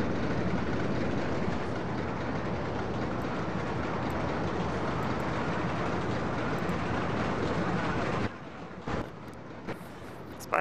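A roller coaster train in OpenRCT2 rolls steadily up a spiral lift with a dense, continuous rumble and rattle, then the sound drops away abruptly near the end, leaving sparse clicks.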